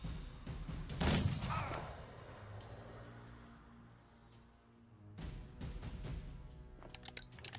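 Gunfire in the video game Mordheim: City of the Damned, with a loud burst of shots near the start followed by a lingering rumble, then a run of sharper cracks toward the end.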